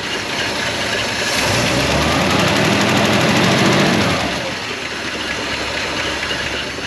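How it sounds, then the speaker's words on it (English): A 1956 Chrysler Windsor wagon's 354 Hemi V8 with PowerFlite two-speed idles extremely slowly, giving a close, loping low rumble that swells slightly midway, then settles back. "And look at that, that's like a 200 RPM idle."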